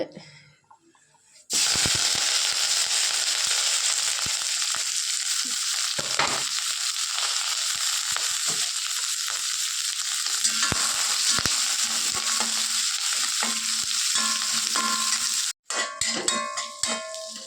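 Sliced onions dropped into hot coconut oil in a pan just after mustard seeds: a loud, sustained close sizzle starts abruptly and runs with occasional stirring scrapes, then cuts off and gives way to a few utensil clinks.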